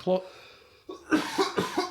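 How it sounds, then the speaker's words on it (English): Several harsh coughs in quick succession, close and fairly loud, with a bit of voice sound between them. "I'm coughing"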